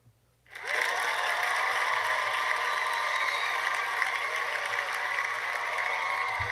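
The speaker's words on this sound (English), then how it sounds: "let's give you guys a cheer" A cheer-and-applause sound effect plays on a livestream: a sudden burst of crowd clapping and cheering that holds steady and loud for several seconds.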